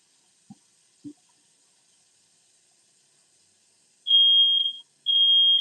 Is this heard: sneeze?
no